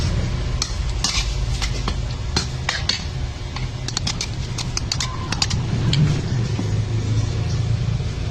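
A Kapampangan kilayin marinade of vinegar, salt and pepper being stirred and mixed in a bowl, with steady close scraping and clinking throughout and a low background rumble.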